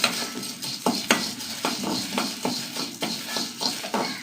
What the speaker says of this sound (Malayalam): 1 ടേബിൾ സ്പൂൺ മുതിര അതൊന്ന് വറുത്തെടുക്കുക